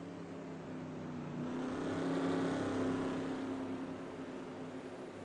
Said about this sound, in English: you've paid any attention to the sim race running in the background